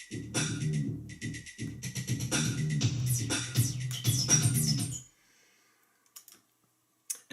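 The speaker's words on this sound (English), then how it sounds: "a clicking rhythm. It was taken from a Kraftwerk record" A rhythmic clicking pattern sampled from a Kraftwerk record plays as a busy, fairly loud mechanical-sounding loop for about five seconds, then cuts off to near silence with a few faint ticks.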